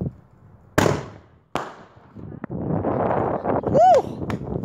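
Fourth of July firecrackers going off outdoors, with a sharp nearby bang, another crack, then a stretch of crackling bursts and a rising whistle near the end, amid people talking and shouting.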